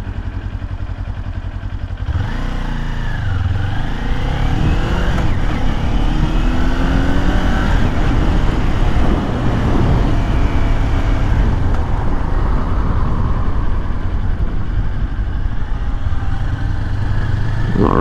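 A 2022 Kawasaki Ninja 400 KRT motorcycle rides along twisty lakeside roads, its engine droning loudly and steadily with rising and falling revs and wind rush throughout.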